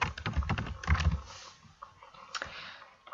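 Rapid clusters of keyboard key presses, clicking close by in quick irregular bursts, then a few sparser taps toward the end.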